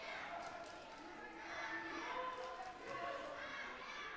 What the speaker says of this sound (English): A few energetic Polish supporters in the background there, cheering her on.